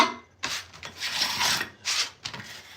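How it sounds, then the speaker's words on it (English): Glue being scraped off a skateboard press during hand-crafted board making, a series of rasping, rubbing strokes in uneven bursts, close and moderately loud with no talking. "Clean off any excess glue from the press itself."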